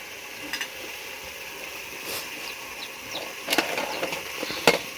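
Crabs are dropped into masala frying in a pot on a wood-fired stove, giving a faint steady sizzle broken by a few sharp crackles and thumps. The sound is fairly quiet, with no talking.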